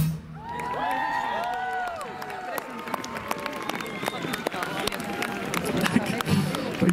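An outdoor Advent concert audience in Hradec Králové claps and cheers in a dense, steady patter of applause, with a few whoops and shouts rising over it, moderately loud and continuing throughout.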